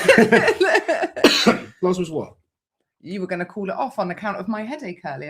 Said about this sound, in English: Suddenly having a coughing fit.